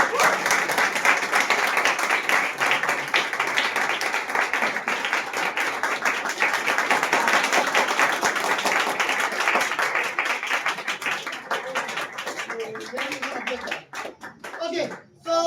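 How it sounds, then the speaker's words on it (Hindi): Church congregation applauds in a long, steady burst of clapping from many hands, fading out toward the end as a voice begins to speak. "अभी जितने भी आदमी लोग हैं इन सभी के लिए ताली बजा सकते हैं"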